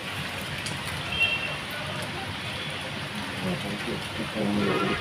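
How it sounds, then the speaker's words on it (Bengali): Steady heavy rain hisses with gusty, storm-like wind rushing over it at Digha, while people talk now and then over the noise. "ভালো বৃষ্টি হচ্ছে, হ্যাঁ পুরো বৃষ্টি, কি অবস্থা, তার সঙ্গে জোরে জোরে হাওয়া হচ্ছে ঝড়ের মতো।"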